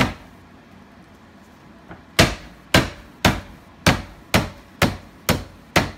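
Fresh lemongrass stalks pounded in a kitchen, about eight sharp, loud blows landing in a steady rhythm after a quiet start.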